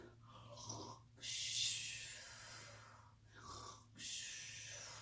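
A person imitates snoring during a children's sleepy-bunnies game, producing slow, rhythmic breathy snorts and exhales at close range, about two cycles, fairly quiet.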